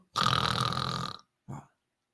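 A person imitates snoring while lying on the back with the tongue low: one long, rough, rasping snore followed by a shorter second one after a brief gap.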